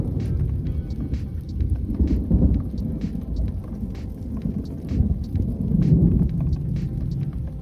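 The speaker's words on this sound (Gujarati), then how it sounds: "જોરદાર મિત્રો વરસાદ પડ્યો છે" Steady heavy rain pours over a waterlogged farm field, with low rumbles of thunder rolling through at intervals and swelling near the middle and end, continuous and fairly close with no talking.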